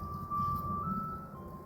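An ice cream truck's jingle drifting in from a distance, a thin sustained melodic tone heard faintly over low ambient rumble.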